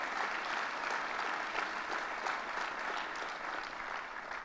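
A crowd at Governor Cuomo's Schenectady announcement event applauds loudly, a dense, sustained clapping that holds steady for several seconds and tapers slightly toward the end, with no speech over it.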